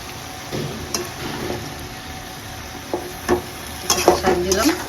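Gourd leaf greens being stirred in a pan, with scattered scraping clinks and a light sizzle; faint voice murmurs underneath, louder bursts of stirring near the end.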